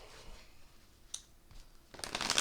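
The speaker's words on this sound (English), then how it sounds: "And I'm going to do a couple shuffles." A Black Cat Tarot deck is shuffled by hand, with a soft papery crackle midway and a louder, fuller riffling burst close by near the end after a quiet stretch.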